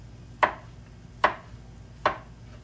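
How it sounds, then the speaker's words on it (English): Three sharp knife chops on a cutting board as sweet potatoes are sliced in a home kitchen, evenly spaced and close, with a faint low hum underneath. "while I slice my potatoes up"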